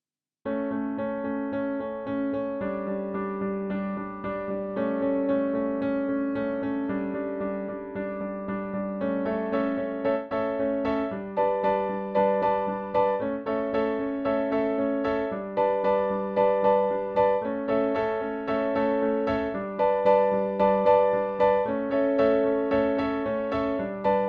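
Solo piano plays the steady, rhythmic chordal introduction of a song, with repeated pulsing chords, clear and close, without any voices.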